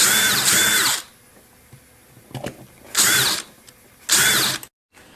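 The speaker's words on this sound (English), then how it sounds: "If I had a brand new drill bit, this would probably be a little bit easier" A power drill with a worn bit whines loudly in three separate bursts of about a second each, with quieter handling clicks and clatter in the pauses between them.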